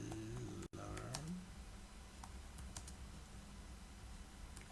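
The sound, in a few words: typing text on a computer keyboard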